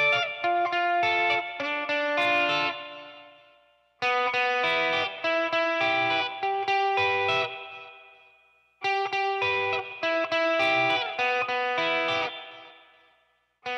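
An electric guitar plays through a booster, two delays and reverb, with three bright chordal phrases separated by near-silence, each one ringing out with echoing repeats that decay away.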